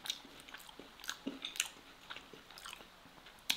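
Someone bites into and chews a grilled tomahawk steak, close and quiet, with a series of soft, wet, crunchy bites at irregular intervals.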